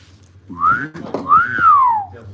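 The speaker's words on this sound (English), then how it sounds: "how's my funk whistle?" Someone whistles a short, bouncy funk phrase with sliding notes, close and clear, with a faint rhythmic tapping underneath.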